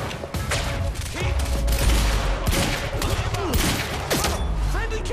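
Dense video-game gunfire from Quantum Break, rapid shots and bursts layered with thuds and booms, loud and continuous throughout, with a voice speaking intermittently under the shooting.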